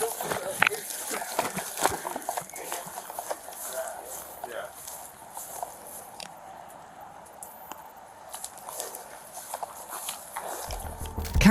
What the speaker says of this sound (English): Cow takes on 2 officers in a fast-paced chase. Hooves versus Boots